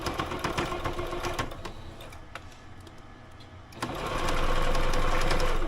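A domestic sewing machine stitches around garment cuffs in a steady, close whirring run that eases slightly in the middle before picking back up louder toward the end, with no talking.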